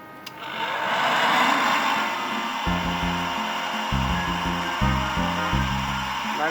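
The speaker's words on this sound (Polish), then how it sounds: "polecam opalarkę zwykłą" A plain heat gun blows steadily while heating a screw during preparation to split a Komar 2350 moped engine, its airy whine joined by a low stepped hum and some faint clattering from the workbench.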